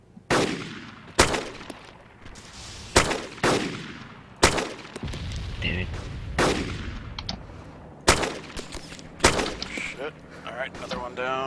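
Zero Survival combat: sharp, loud gunshots crack out one at a time at irregular intervals over a constant rumbling battle backdrop, while a player speaks briefly between shots.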